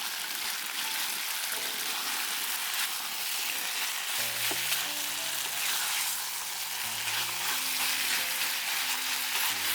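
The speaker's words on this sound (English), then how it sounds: "Spread the pieces well and let them grill for 1 minute." Pieces of beef sizzle and fry in a hot pan for a Chinese-Vietnamese oyster sauce stir fry, a steady close crackle throughout with faint clinks of utensils.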